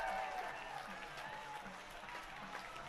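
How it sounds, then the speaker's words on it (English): Crowd and dugout cheering and clapping after a home run at a Spearfish Sasquatch baseball game in Spearfish, South Dakota, with a distant, sustained roar of applause and voices. "The crowd and dugout are in it."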